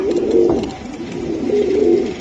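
Racing pigeons coo in a loft at close range, with repeated low, throaty rolling calls swelling and fading in a steady rhythm and no talking.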